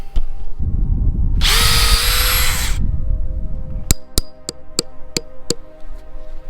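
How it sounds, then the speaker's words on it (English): A power drill whines loudly for about a second and a half while drilling a tap hole in a tree, amid low rumbling, followed by a rapid series of sharp tapping knocks. "Now I just got to drill a hole and we'll tap it in."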